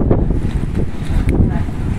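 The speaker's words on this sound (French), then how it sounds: "le vent il monte, il monte, il monte, il monte" Strong wind gusts through a protected harbour on Lanzarote, a loud, rough buffeting roar against the microphone with faint rigging or boat sounds beneath, over two brief seconds.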